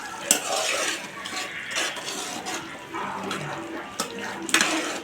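Green chillies stirred into a simmering mixed curry of brinjal, drumstick and potato in a pot, with soft sizzling and irregular spoon scrapes against the metal, close by and without speech.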